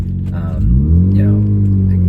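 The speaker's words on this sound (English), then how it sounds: "that engine note, the exhaust note is something that I think adds a lot of character to the driving experience" Mazda FD RX-7 rotary engine idling and rising in a steady, loud, close low rumble that swells slightly partway through, with a voice speaking over it.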